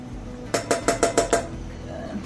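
A cooking pan is handled while berbere melts for Ethiopian chechebsa, giving a quick run of about six sharp metallic clinks and knocks in a steady rhythm, followed by one more clink at the end, all close and clear.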